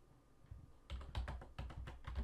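Java code is typed on a computer keyboard. After a quiet pause, a fast run of soft, close keystrokes clatters in irregular bursts, with no talking.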